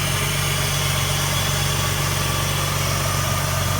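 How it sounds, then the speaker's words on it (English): The 3.7-liter six-cylinder engine of a 2004 Jeep Liberty Renegade idles steadily with a deep, even rumble and vibration, loud and close, with no voices. "This is a 2004 Jeep Liberty Renegade with a"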